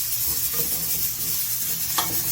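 Sliced garlic and onion fry in hot oil for chicken soup, giving a dense, continuous sizzle close by, with a soft scrape of stirring near the end.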